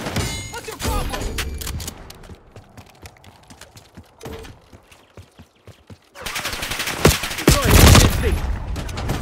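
Bursts of automatic gunfire and single shots ring out in a Call of Duty: Black Ops 6 hardpoint match, loud and close, with a quieter lull of scattered thuds before a heavy final volley.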